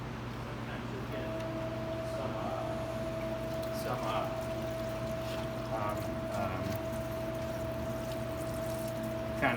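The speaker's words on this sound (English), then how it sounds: "I'm going to plug my system in, and then I'm going to flush this out" Water flushes through a hose while a PT valve is being repaired, a steady pouring rush over a constant pump-like hum and tone, with faint knocks and handling clicks.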